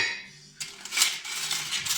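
Old metal knives, collected as scrap, clink and rattle against each other in a short, bright jangle after a quiet moment.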